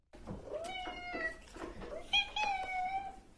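A cat meows in a drawn-out, wavering cry, then lets out a second longer meow, close and fairly loud against quiet background.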